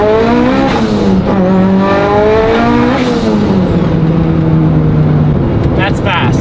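A Mitsubishi Evo 8 engine roars at full boost on a dyno, its loud sustained whine sliding down and up in pitch under steady noise while a voice talks over it.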